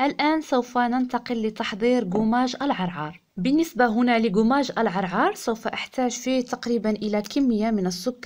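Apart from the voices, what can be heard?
No everyday noises stand out.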